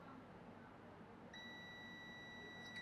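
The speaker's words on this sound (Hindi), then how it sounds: "एक तरफ ग्राउंड से बीप दे रहा है" A multimeter in continuity mode beeps while probing a TVS diode to ground on a mobile phone board, giving a steady, high, clean electronic tone that starts partway through over a low background hiss.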